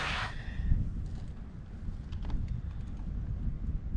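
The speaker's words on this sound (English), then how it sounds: "Oh, here comes the wind." Steady low rumbling wind buffets a microphone outdoors at Chenango Valley State Park, continuous and fairly loud, with a few faint clicks and rustles over it.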